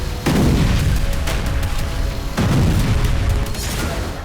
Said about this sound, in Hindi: बीते 24 दिनों से गाजा में बारूदी कोहराम जारी है।